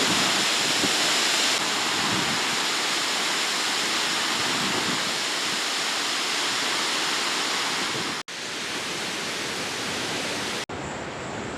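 Devil's Cataract at Victoria Falls in southern Africa, a huge volume of water pouring over the falls with a steady, loud, broadband roar and some wind buffeting the microphone.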